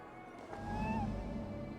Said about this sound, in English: Who put you up here, little cat?